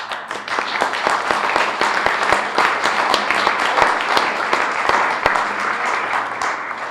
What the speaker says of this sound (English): You give me applause and I decide to leave the stage.